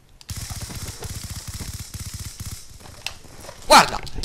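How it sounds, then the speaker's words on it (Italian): Rapid automatic gunfire rattles in the Call of Duty Black Ops 2 video game, a fast steady burst of shots lasting a few seconds and ending with a louder sharp blast. "io gli sparo 40 milioni di colpi, non muori"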